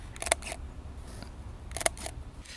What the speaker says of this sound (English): just listen to this shutter here.